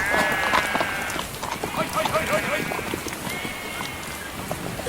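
Sheep bleat several times amid the clatter of hooves and a busy outdoor scene, with people talking nearby.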